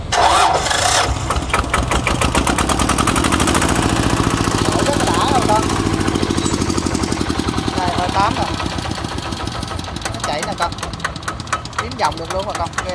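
A Kubota K8 engine is cranked by its starter, catches and settles into a rapid rhythmic knocking idle, close and loud, with someone talking over it.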